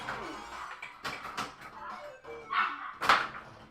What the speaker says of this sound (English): Oh, that dog. I told him no barking.